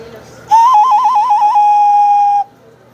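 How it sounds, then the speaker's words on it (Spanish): A small toy whistle is blown once in a high, warbling trill that settles into a steady shrill tone for about two seconds, then stops. "Mira, toma, aquí están los silbatitos,"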